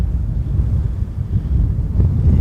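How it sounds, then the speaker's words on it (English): Strong wind buffets the microphone beside an airport runway with a constant low rumble and gusting roar throughout, no voices. "It's just too windy"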